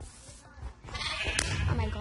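A sheep in a video game bleats loudly and close by, a wavering cry that swells in the second half, with faint voices and game noise beneath.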